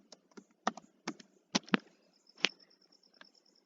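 Typing on a computer keyboard, a sparse run of separate key clicks at an uneven rhythm, close and fairly quiet with a near-silent background.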